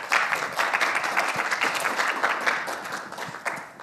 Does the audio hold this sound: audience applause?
yes